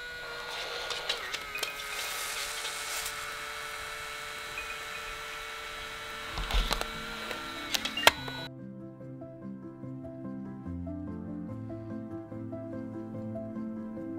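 A Fujifilm instax SQUARE SQ10 instant camera printing a photo gives off a steady mechanical whir with light clicks for about eight seconds, then gentle music takes over.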